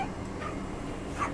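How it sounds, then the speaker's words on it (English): A small dog on an airplane cabin gives a couple of brief high whimpering yips over the steady low drone of the aircraft. "I think that lady has a dog."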